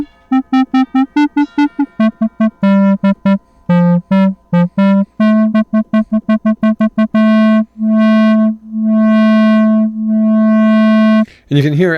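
A Therevox ET-5 synthesizer plays a buzzy, harmonically rich tone with gain distortion, first in quick staccato notes and then in longer held notes, the grit growing heavier toward the end.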